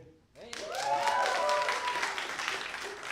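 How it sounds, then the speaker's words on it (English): Audience applause at a live stand-up comedy show, a dense wash of clapping that swells quickly and sustains, with cheering voices and a performer speaking over it. "clap it up for us, guys."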